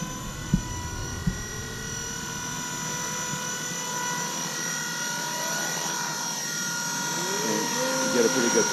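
A Blade 230 RC helicopter whines steadily in flight, its high rotor and motor tone holding and gradually rising, loud and close, with a couple of sharp knocks early on.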